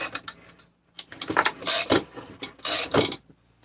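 A wrench works a bolt loose during a chainsaw teardown, giving a few close, sharp metallic clicks and ratcheting creaks in short separate bursts with quiet gaps between them.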